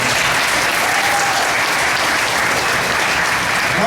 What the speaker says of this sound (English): This bird deserves a big round of applause.